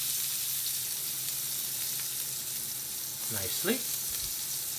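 Sliced onions drop into a hot pan on lowered heat after chicken has been browned and removed, giving a steady close sizzle with a brief burst of stirring near the end and a faint voice underneath.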